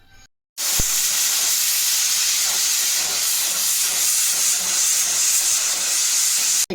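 A loud, steady hiss of escaping steam from a pressure cooker boiling potatoes starts abruptly after a brief silence and holds at full strength, bright and close, with no voices.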